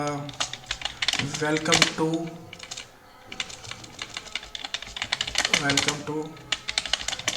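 Fast, steady keystrokes on a computer keyboard while Python code is typed, clattering up close in quick bursts, with a person speaking briefly over the typing.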